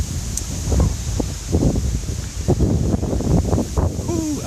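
Strong wind gusting across an exposed hilltop on a countryside loop walk, a dense low roar of buffeting and rustling with occasional bursts, loud and continuous with no voices.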